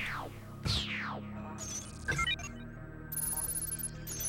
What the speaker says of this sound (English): This has all the intense action of dialing a phone number from a book.